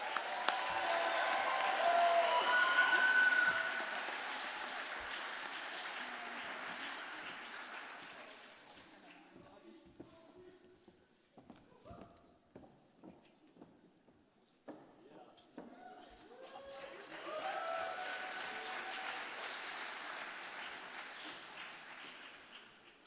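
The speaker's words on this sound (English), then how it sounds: "Let's get another round of applause for our photo contest winners." A film night crowd gives a round of applause for photo contest winners, loud clapping at the start that fades into scattered claps and murmurs, then a second burst of applause swells near the end.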